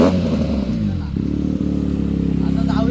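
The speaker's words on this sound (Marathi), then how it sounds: "करूया स्पोर्ट बाईक चालू आपण." A sport bike's engine catches and settles into a fast, even idle throb close by, after a brief clatter of starting, with a voice talking over the start.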